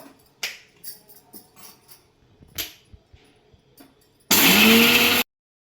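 A kitchen mixer grinder coarsely grinds roasted dried red chillies, coriander seeds, cumin and salt for a brinjal chutney, running in one loud, dense burst of about a second after several sharp taps and clicks.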